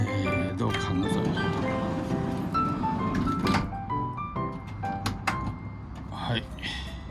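The sliding door of a van converted for sleeping in the car shuts with a few dull thuds and knocks, heard under ongoing talk and a tonal background.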